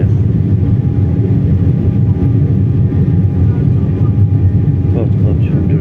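Steady, loud airplane cabin drone at cruising altitude over the sea, a dense low roar that holds evenly throughout with no pauses, while a person talks over it.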